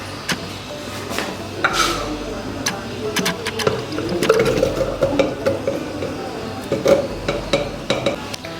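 Chopped, peeled apple pieces are tipped and scraped into a container, giving a run of light clattering taps and knocks, with a voice speaking over them.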